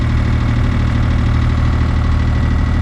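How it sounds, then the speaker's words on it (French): A sailboat's inboard motor runs at sea off the Balearic Islands, a loud, steady, close droning hum with no change in pitch and no voices. "Vous entendez qu'on a mis le moteur."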